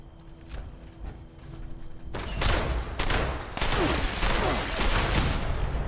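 Rapid bursts of gunfire in the Fallout 76 video game shoot down a turret, loud and close, with heavy impacts and mechanical clatter following a quieter stretch at the start.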